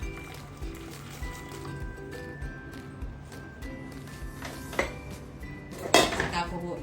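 Dried black-eyed peas tip into a cooking pot of hot water, with soft clinks of metal and utensils and a sharper clatter near the end.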